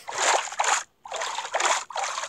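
Splashing and trickling water in a block-building video game after landing in water beside a waterfall, heard as a few close, continuous watery washes broken by a short silent gap, with no talking.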